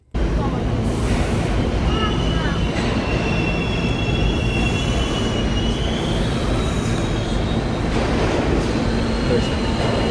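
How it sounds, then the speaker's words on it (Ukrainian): Loud rumbling subway train running steadily on the rails, with high metallic wheel squeal rising and fading throughout and no talking. "Метро."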